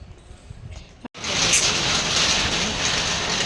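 Rain falls steadily and close by. After a brief quieter stretch, it swells into a loud, continuous hiss of drops that fills the rest of the clip.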